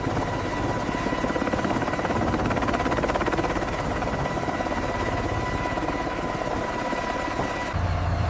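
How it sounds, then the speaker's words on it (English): A large heavy-lift helicopter roars steadily and loudly throughout, its rotor chop pulsing in a continuous heavy drone as it lifts a WWII Lancaster bomber from frozen tundra. "the heavy-lift helicopter strains as the 70-year-old bomber finally"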